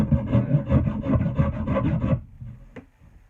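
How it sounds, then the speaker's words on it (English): Steady back-and-forth rasping on the end of a hickory axe handle to cut a bevel, rhythmic and close for about two seconds, then stopping with a single light knock after. "I always put a bevel on the end of my axes"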